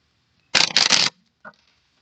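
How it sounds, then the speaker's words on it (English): A deck of cards gets a quick riffle shuffle close by, a dense papery burst lasting about half a second, followed by a brief soft tap as the cards settle. "it takes a long time to shuffle up all the cards"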